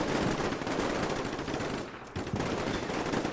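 Rapid gunfire from a grenade launcher in the war game Combat Mission: Black Sea, loud and continuous bursts filling the mix with a brief dip before the firing resumes, no talking.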